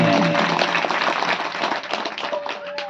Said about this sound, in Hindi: जोरदार तालियां है, सुनिए